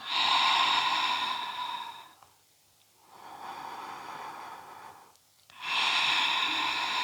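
Slow, deliberate breaths during a Pilates exercise, long airy exhales and inhales in a steady rhythm with brief pauses between them, close and fairly loud.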